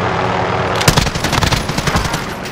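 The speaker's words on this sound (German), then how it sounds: "jemand schießt auf mich, seht ihr?" Automatic gunfire in the video game Warzone comes in after a brief lull as rapid, close, rattling bursts that carry on to the end.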